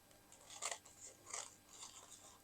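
Quiet, close snips of a blade cutting the sides of cornmeal dough shapes for festive baskets, with three or four soft crisp bursts a moment apart.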